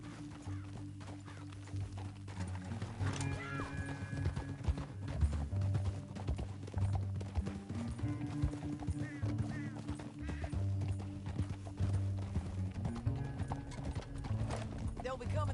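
Rhythmic hoofbeats of a galloping horse in the Red Dead Redemption 2 video game, steady clip-clop running throughout with occasional whinnies, set under low tonal music and faint game sounds.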